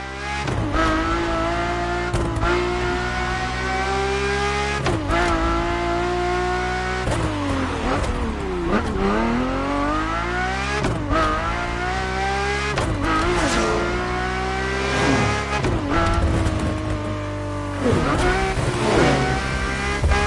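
A Ferrari F50 engine in the racing game The Crew Motorfest revs hard through repeated rising and falling pitch sweeps with gear changes, loud and continuous throughout.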